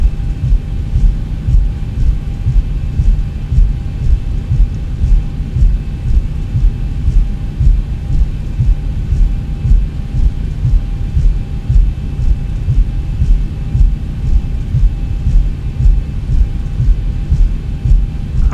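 A steady, loud engine drone from a plane in the X-Plane 11 flight simulator runs without pause, a constant low rumble with a faint hum above it and no voices.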